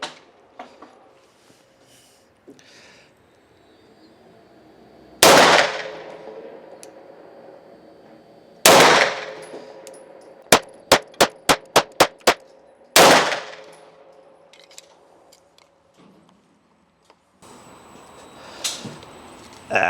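An FN BDA-9 pistol fires at a shooting range: three loud, widely spaced shots, then a quick string of sharp cracks, with quiet handling noises in between and no speech.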